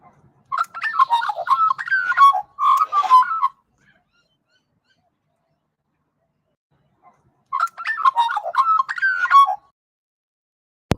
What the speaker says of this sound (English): None of our birds make those cool sounds.